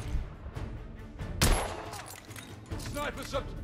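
Sniper gunfire in The Order 1886 video game: a single sharp crack stands out midway through a busy game soundtrack, with scattered sporadic shots and bursts around it.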